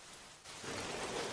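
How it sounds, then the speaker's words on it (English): Heavy rain pours down steadily, a dense broadband hiss that swells louder after a brief quieter opening and then holds constant with no voices. "It's raining like cats and dogs."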